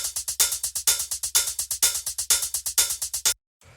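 A deep minimal house hi-hat sample loops in a steady, even 16th-note pattern of crisp, bright ticks with regular accents, played alone before it cuts off abruptly near the end.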